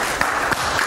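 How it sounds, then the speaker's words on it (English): A church congregation claps hands together in steady, dense applause, with no voices on top. "Give the Lord a hand clap tonight."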